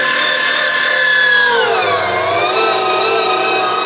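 An electric meat grinder chews through pieces of venison with a little fat still on, its loud, steady motor whine sagging in pitch as the meat loads it, then holding. No one speaks.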